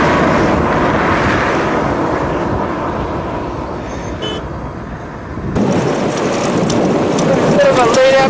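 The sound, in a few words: late afternoon dust storm wind in the Sahara desert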